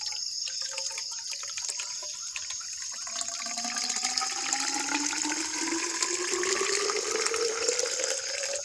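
Freshly boiled hot water poured into a container, a continuous close splashing stream whose pitch rises steadily as the vessel fills, with no voices.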